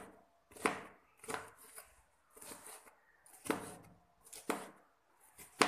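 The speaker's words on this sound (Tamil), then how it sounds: "இதை நம்ம கட் பண்ணிப்போம்." A knife chops bitter gourd on a cutting board in quiet, close, crisp strokes, coming in short irregular bursts with pauses between cuts.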